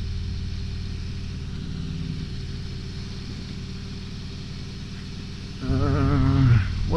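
A 2023 Harley-Davidson Road Glide Limited motorcycle riding along, a steady low engine rumble with wind noise that swells louder near the end as the engine revs up.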